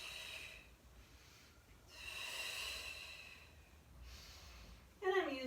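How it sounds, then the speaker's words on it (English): Deep, controlled breaths during a Pilates roll up on the floor, slow airy inhales and exhales rising and fading in broad waves, with a sharper snort-like exhale near the end. "I'm using my Pilates breathing to come back down."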